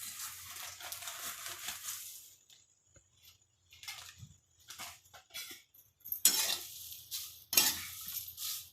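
Stone flower (dagad phool) is stirred and heated in a kadai: a spoon scrapes and rattles against the pan in uneven bursts, with faint sizzling and short quiet pauses between strokes.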